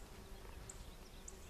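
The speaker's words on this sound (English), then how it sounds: "getting stung by all these bees that are swarming around me." A dense, steady buzz of many bees swarms close around outdoors in the Texas brush, a continuous droning hum with no speech.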